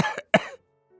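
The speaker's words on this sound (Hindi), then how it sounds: "जोश से भरपूर लड़का अपनी बात कह रहा था कि तभी उसे जोर से खांसी आ गई।" A boy coughs loudly, two sharp close coughs in quick succession followed by near silence.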